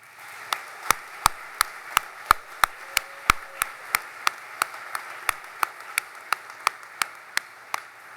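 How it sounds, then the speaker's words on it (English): Sparse hand claps ring out in a large hall at a naval graduation ceremony, sharp single claps spaced fairly evenly across the stretch, rather than a dense ovation. "Please join me in a round of applause for our families, friends, and shipmates"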